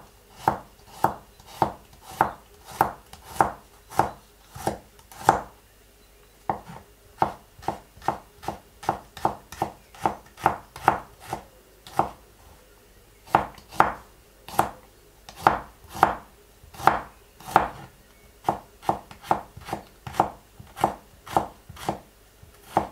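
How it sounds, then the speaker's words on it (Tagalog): Garlic chopped with a knife on a board for a stir fry, a steady rapid series of sharp knife strikes in quick runs with brief pauses, close and clear with no talk. "Hiwa tayo ng garlic."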